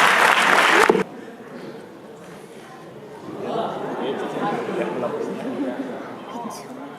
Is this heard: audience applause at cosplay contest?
yes